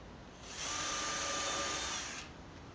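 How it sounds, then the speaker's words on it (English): A power drill drives a screw into pallet timber, one steady high whine lasting about two seconds, fairly quiet and alone. "So screw that piece of wood down."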